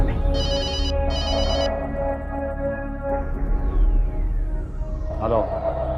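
A mobile phone rings with repeated electronic ringtone bursts under background music and ambient noise, followed by a rising tone sweep.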